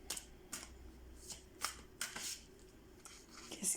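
Oracle cards being shuffled for an archangel Michael reading, with a run of soft papery riffles and flicks, close and quiet, and no talk.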